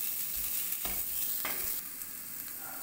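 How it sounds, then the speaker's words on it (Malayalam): Chicken masala gets stirred into noodles in a hot pan, with a steady close sizzle and a few scraping strokes of the utensil and no talking. "അപ്പൊ നമുക്ക് ഇത്തിരി കൂടി ഇട്ട് കൊടുക്കാം. നന്നായിട്ട് മിക്സ് ചെയ്യാം."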